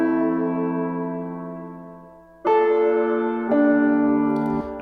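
A sustained synth pad in an atmospheric drum and bass production, sent through a hybrid reverb in Ableton Live, holds a chord, then shifts to brighter chords with a washy, lingering tail, close and steady without voices.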